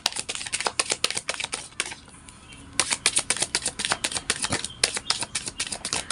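Tarot cards being shuffled, with a rapid run of crisp riffling flutters, a brief pause near the middle, then more riffles, close and clear with no talking.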